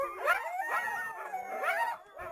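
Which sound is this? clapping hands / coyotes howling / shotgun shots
coyotes howling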